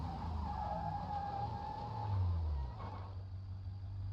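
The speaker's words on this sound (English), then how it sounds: "it skidded to a halt, which isn't bad" In the BeamNG driving game, a car brakes and skids to a halt with a short tire squeal over a low engine rumble, which then settles to a steady idle-like drone.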